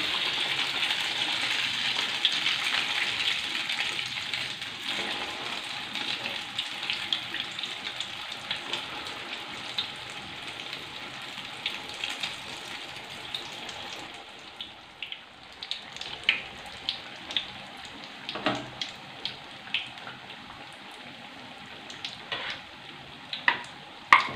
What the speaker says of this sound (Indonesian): Masukkan di dalam minyak panas.